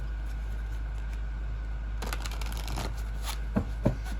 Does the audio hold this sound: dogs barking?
no